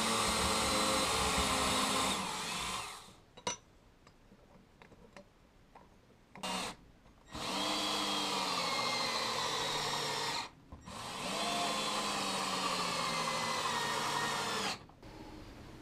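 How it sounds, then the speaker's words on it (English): Power drill boring screw holes in aluminum for a TV mounting build, heard in three sustained loud bursts separated by quieter pauses with small clicks and taps of handling. "Then I drill the holes that will host the screws and assemble everything."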